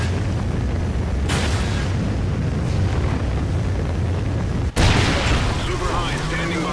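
A Trinity rocket strike from the video game Call of Duty: Ghosts multiplayer, a deep rumbling blast with a sharp crack partway through, set against dense battle noise.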